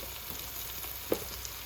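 Onion with ginger, garlic and red chilli frying in oil, a quiet steady sizzle throughout with one brief louder pop partway through, no talking.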